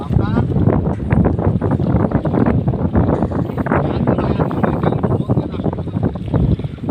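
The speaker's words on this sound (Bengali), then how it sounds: "প্রচুর পরিমাণ বাতাস" Strong wind blowing over the Jamuna river during a fishing trip, a loud, continuous gusty rush battering the microphone, with someone talking throughout.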